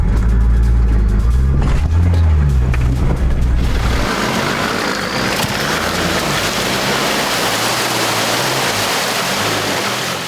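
A 4WD's engine revs hard during a snatch recovery of a vehicle stuck in a bog, a loud low drone that gives way to a sustained rushing, splashing wash of mud and water.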